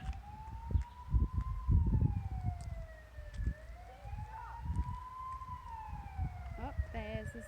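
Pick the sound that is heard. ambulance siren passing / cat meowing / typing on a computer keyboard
ambulance siren passing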